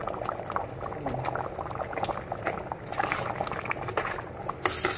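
A pot of Filipino afritada with pork ribs simmers, giving a continuous bubbling, gurgling boil at a moderate level, with a brief brighter splash near the end and no talk.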